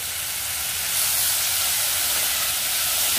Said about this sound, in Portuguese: Só dá uma refogadinha.